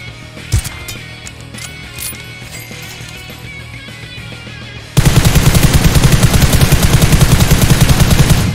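Game AWM sniper rifle in a shooter, its new glowing skin equipped, firing as a rapid run of loud, evenly spaced cracks that begins abruptly partway through after a quieter stretch of ambient game sound.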